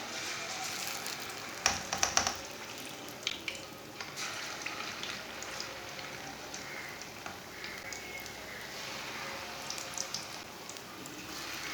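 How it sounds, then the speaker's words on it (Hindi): Pakoras fry in hot oil, giving a soft, steady crackling sizzle with a few sharper pops near the start, heard close and fairly quiet without talk. "अब पकौड़ों को 2 मिनट तक फ्राई होने देंगे"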